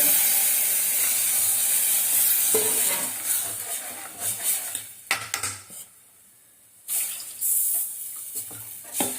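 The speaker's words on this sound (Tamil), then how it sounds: "இப்போ வந்து புளி தண்ணி ஊற்றினாங்க." Tamarind water pours and splashes into a pan for rasam amid clattering kitchen noise, with brief pauses between bursts; no talking.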